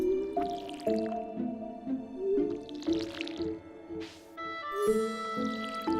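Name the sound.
filling the cat's water bowl in Stardew Valley video game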